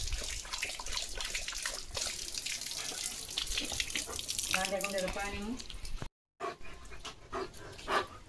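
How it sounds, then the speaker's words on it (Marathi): A weak trickle runs from a tap as the water tank runs nearly dry, splashing faintly while a dog pants close by and a voice speaks now and then. "टाकी संपत आली वाटतं"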